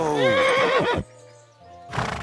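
A horse in the Kingdom Come: Deliverance II video game gives a loud, close whinny that rises and falls for about a second, then a quiet pause before more movement noise.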